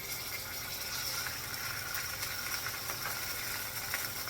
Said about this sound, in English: I'm going to put it in the pan, skin side down,